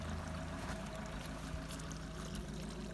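Water pours steadily from a built fountain at a forest edge beside farmland, a soft continuous splashing and trickling heard faintly at a distance.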